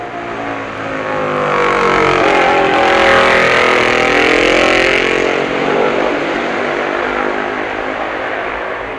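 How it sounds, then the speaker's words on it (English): A Tom Arter AJS racing motorcycle at Braddon Bridge during the 1966 Isle of Man TT sweeps past, its loud engine note rising as it nears, peaking, then fading as it pulls away alone. "Peter Williams flicks his Tom Arter AJS into Braddon Bridge for the last time"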